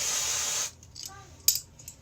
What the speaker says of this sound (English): and then just spray.